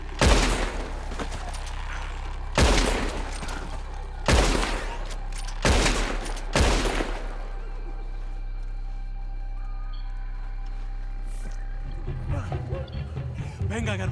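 Gunfire at hanging ropes during a rescue in Red Dead Redemption 2: five loud, heavy shots with long echoing tails in the first seven seconds, then a lingering low rumble and voices near the end.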